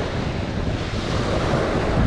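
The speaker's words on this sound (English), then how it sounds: "in this area where the waves break onto the beach" Surf washes continuously onto Fort Myers Beach, a loud, dense roar of breaking waves mixed with wind buffeting the microphone, with no voices.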